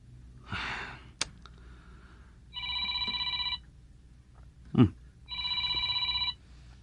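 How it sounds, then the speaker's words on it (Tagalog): A telephone rings with an incoming call in a Tagalog drama scene, giving two clear electronic ring bursts separated by a pause, with a sigh and a soft breath between them. "Sino naman itong tumatawag?"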